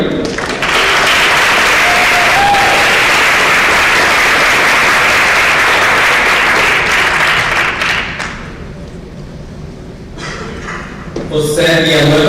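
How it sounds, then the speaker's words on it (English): Sustained applause from a large audience at a board meeting fills most of the clip, fading toward the end as a voice begins to speak. "please give them a warm welcome, a warm applause"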